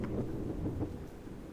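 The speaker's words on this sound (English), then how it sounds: "Raindrops pat against the canvas, the leaves of the trees and the water's surface." Rain falls steadily in a VR game storm, a soft constant hiss with faint low rumbling of thunder beneath, quiet and without voices.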